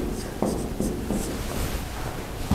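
Chalk or marker writing on a board during a lecture on partial fraction expansion, a few distinct strokes and taps close by, with a little faint talk.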